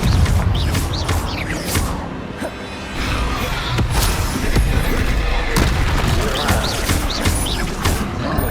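Confringo fire spell blasts in Hogwarts Legacy, loud booming explosions and crackling bursts rolling one after another with dense combat noise.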